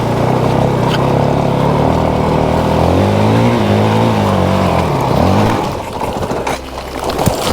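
Dirt bike engine revving hard while climbing a hill at Cook Lake, loud close motor drone with rising and falling pitch sweeps, then easing off into rougher sputtering near the end.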